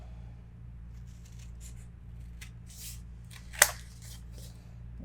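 Paper trimmed at the corners for a 3.5 by 5.5 inch scored mini album pocket: soft scraping and cutting rustles, with one sharp snip or punch click, close and fairly quiet over a steady low hum.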